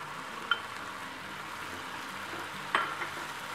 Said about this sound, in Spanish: vamos a agregar el camarón picado que teníamos